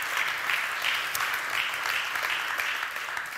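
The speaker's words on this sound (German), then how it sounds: "Mal kurz einen Applaus." Church audience in a German-language worship service applauding steadily, a dense continuous wash of many hands clapping for about three seconds without pause.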